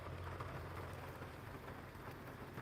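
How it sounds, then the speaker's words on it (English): Steady rain falling outdoors, a dense, even hiss of drops that stays at the same level throughout with no pauses, faint and distant, with no voices. "This rain is still going on."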